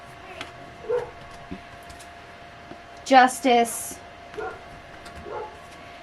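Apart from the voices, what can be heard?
dog barking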